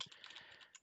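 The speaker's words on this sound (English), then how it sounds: "Boy, my typing is terrible today." Faint, quick computer keyboard typing while preparing a D&D session, a short burst of soft clicks heard alone.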